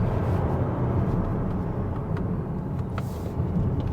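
Kia Sorento 2.2 diesel, a 2023 model with an eight-speed automatic, holds third gear while climbing a winding mountain road at Genting, giving a steady low engine drone and road rumble under constant cabin noise.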